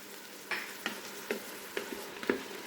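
Garlic sizzling in a Ninja Foodi pot for red beans and rice, a low continuous fry punctuated by four or five distinct stirring scrapes at an even pace, close up and without voices.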